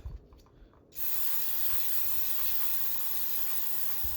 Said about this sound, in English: Gonna hit them with some brake cleaner.